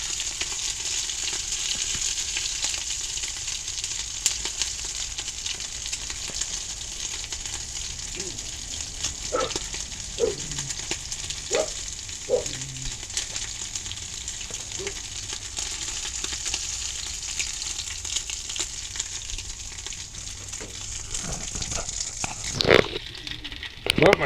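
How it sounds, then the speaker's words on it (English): Tuna with mustard and cornmeal frying in a cast iron pan on a Coleman stove inside a greenhouse: a steady, close hiss and sizzle runs throughout, with occasional clinks and scrapes and brief talk near the end. "Cast iron cooking on Coleman stove."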